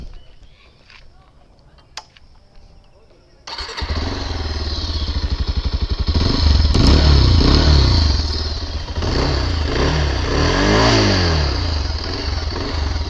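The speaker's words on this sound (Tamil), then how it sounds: "நெக்ஸ்ட்டு பார்த்தீங்கன்னா இந்த வண்டியோட எக்ஸாஸ்ட் மட்டும் இப்போ நோட் பண்ணிக்கலாம்." A Bajaj Pulsar 220F BS6 motorcycle exhaust fires up after a quiet moment and revs loudly and steadily up close, its throaty rumble rising and falling across several throttle blips.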